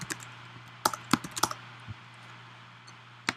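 Java code being typed on a computer keyboard, a handful of sharp, close key clicks arriving in small irregular clusters with pauses between, over a faint steady hum and no talk.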